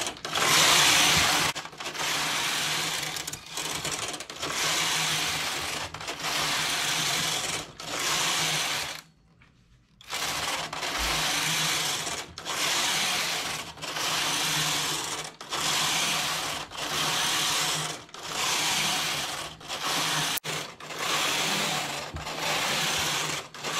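Knitting machine carriage sweeping back and forth across a jacquard vest, a steady series of loud rasping, clattering passes about every two seconds, with one short pause partway through.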